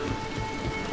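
Steady heavy rain pours in Dragon Age: The Veilguard, a dense, continuous hiss with low rumbling underneath, loud and unbroken throughout.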